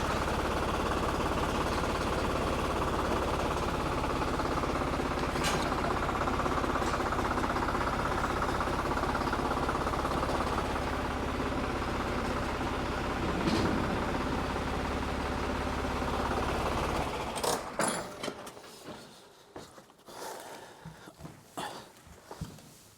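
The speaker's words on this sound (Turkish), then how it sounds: "traktör çok ses çıkarıyor" A tractor engine drones steadily and loudly, then cuts out near the end, leaving a few clanks and knocks.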